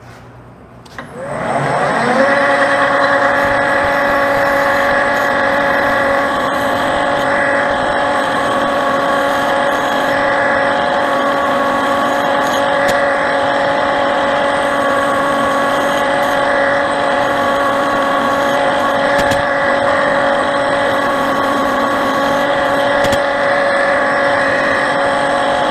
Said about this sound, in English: Gotten so used to running the lathe off this VFD